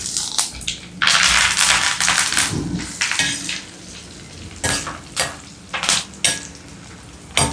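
Hot oil tempering with asafoetida, curry leaves and dried red chilli pieces sizzles loudly close up, with crackling bursts and pan-stirring scrapes that come and go.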